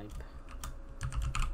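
Close, quick keystrokes on a computer keyboard, a short burst of clicky taps with a denser flurry near the end, while a voice talks quietly underneath.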